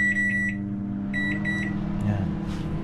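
A running microwave oven hums steadily while it heats frozen food. Two bursts of three electronic beeps ring out over the hum, fairly close and loud.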